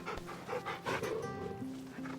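A dog pants rhythmically while being petted in Final Fantasy XVI, quick breathy huffs heard close up with faint game tones underneath.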